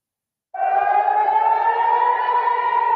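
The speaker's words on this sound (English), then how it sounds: "As you can hear, sirens are going off in Jerusalem." A civil defense air raid siren in Jerusalem starts abruptly and holds a loud, steady wailing tone that carries on without a break.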